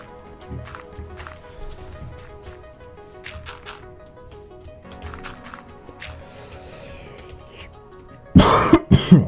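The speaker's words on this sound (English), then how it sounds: "Cough, cough, cough." A burst of loud, close coughing, several rapid coughs in a row, comes at the end after quiet clattering and shuffling.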